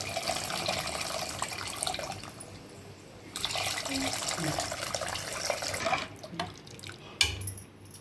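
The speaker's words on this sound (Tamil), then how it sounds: "இப்போ வந்து நம்ம கரைச்சி வச்சுருக்கிற புளி தண்ணி ஊற்றிக்கலாம்" Tamarind water pours steadily into a pot of fish curry with a soft splashing trickle, then tapers off into a few scattered drips and clinks.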